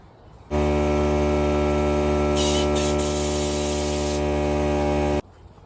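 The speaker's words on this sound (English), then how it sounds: "blow it off again." A burst of compressed air blows off a Zenith carburetor jet for a Model A project, a loud steady hiss lasting several seconds with a brief sharper spurt in the middle.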